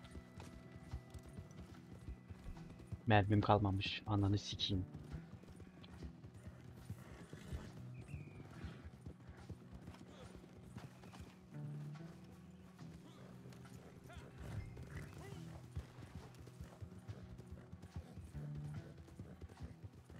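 A horse gallops in the Red Dead Online video game, its hoof clip-clop running steadily near and fairly quiet throughout, with a brief louder burst near the start and players talking over it.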